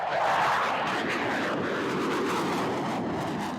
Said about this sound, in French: Les moteurs rugissent. La montée est spectaculaire.